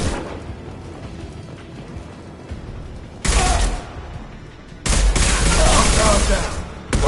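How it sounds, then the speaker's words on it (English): Impact shot gunfire in the video game Mass Effect 2 on PS4: heavy, booming blasts hit in two loud bursts over a low rumbling battle bed, with voices talking in between. "Firing an impact shot"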